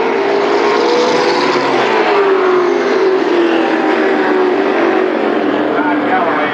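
Mini Indy race cars run laps at Berlin Raceway, their engines droning steadily and loudly for the whole stretch, the pitch sliding as cars pass, with a race announcer's voice likely mixed beneath.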